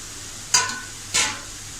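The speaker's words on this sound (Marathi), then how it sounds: "हे सुद्धा आपण छान परतून घेऊया." Drumstick vegetable with grated fresh coconut and a generous amount of oil is stirred in a pan, two short scraping swishes of a spatula over a faint low sizzle, close by and otherwise quiet.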